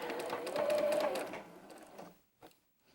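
A domestic sewing machine runs a short back stitch on a pieced quilt block. It gives a quick mechanical whir close by that fades into a few faint clicks, with no speech.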